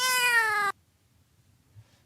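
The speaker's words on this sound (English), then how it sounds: "so there's the meow for Sugar Kitty" A cat gives one long, clear, close meow that stops abruptly, followed by near silence with only faint low rustling.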